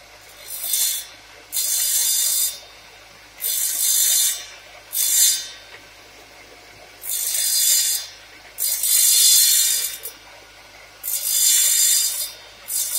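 A smooth diamond blade cutting small tile, with repeated loud high-pitched grinding passes of one to two seconds each, separated by short pauses and a low background hum, close-up.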